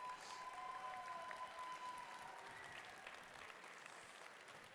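Audience applause at an award ceremony for a FIRST Tech Challenge robotics qualifier, steady sustained clapping from a large crowd filling the hall, with a faint tone in the background.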